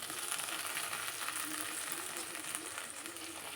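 Washed drumstick leaves frying in hot oil in a pan, a steady close crackling sizzle that continues evenly throughout with no talk.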